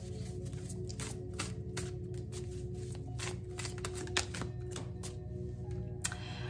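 Oracle cards being shuffled by hand, a steady run of crisp riffling snaps and flicks over a soft low hum, close and continuous throughout.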